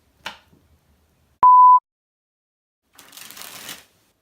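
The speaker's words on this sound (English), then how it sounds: "once the deck is properly shuffled up" A deck of playing cards is handled for a Hindu shuffle: a single sharp click, a short electronic beep, then a brief, close rustle of cards sliding off the pack.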